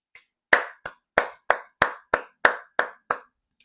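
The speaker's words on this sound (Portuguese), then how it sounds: "Eu vou começar esse vídeo aplaudindo o MPLA." A single person's hands clapping about nine times in a steady, slightly uneven rhythm, each clap sharp and close with brief gaps between, in an otherwise quiet room.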